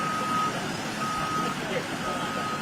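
Truck reversing beeps at a demolition site in Macon, Georgia: a steady high electronic tone pulsing in long, evenly spaced beeps over a constant outdoor rumble, with faint voices in the background.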